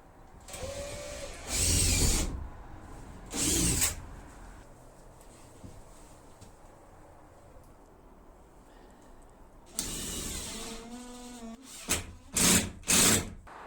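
A power drill drives screws into the top piece of a reclaimed-wood campervan kitchen frame in several separate bursts: two short whirs early on, then a longer run followed by quick pulses near the end, with quiet gaps between.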